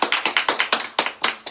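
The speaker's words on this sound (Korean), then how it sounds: "박수." A small group claps at a reading-club gathering, about a dozen sharp, close hand claps in a quick, fairly even rhythm with no talking.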